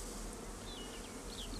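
Honey bees buzz steadily around an open hive's honeycombs, a dense continuous drone with a few individual bees passing close by. No talk.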